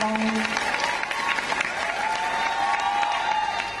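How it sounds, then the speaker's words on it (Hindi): Steady, dense applause from a large crowd at a Hindi poetry recital fills the space continuously, with faint cheering and voices mixed into the sustained clapping. "एक बार तालियां बजाइएगा"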